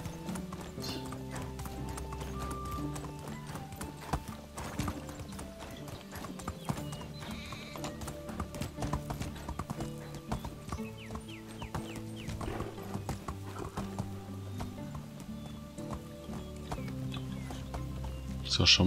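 Horse hooves clip-clop at a steady walking rhythm while riding in the video game Medieval Dynasty. Background music plays throughout, and someone talks over the sound.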